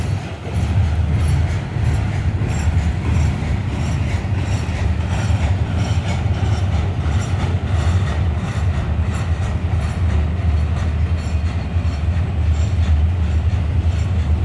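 An FEC freight train led by an ex-Union Pacific locomotive rumbles past at close range, a loud continuous roar of rolling wheels and clattering cars that holds steady the whole time.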